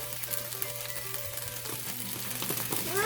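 Jain green Thai paste fries in a pan with roasted peanuts, giving a steady, fairly quiet sizzle with light scraping and stirring near the end.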